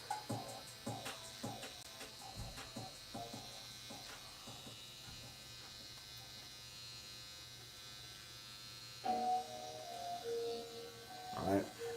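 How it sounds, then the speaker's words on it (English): An electric hair trimmer clips long, loose hairs around a mustache during a self-haircut, a steady close buzz running throughout with a few short bursts and clicks of handling near the end. "you're going to clip with the trimmer just to get any long or loose hairs"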